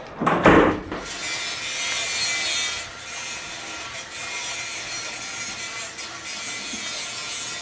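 Sawing or cutting into a reconstructed skull model, with a sharp scraping burst near the start followed by a steady, continuous rasping cut that runs close and fairly loud with brief dips throughout.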